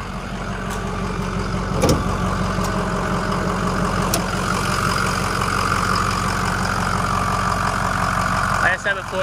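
A 2007 Ford F-250 Lariat with a 6.0L Powerstroke diesel idles steadily and nearby, a continuous low rumble with a light rhythmic clatter and a brief louder bump partway through.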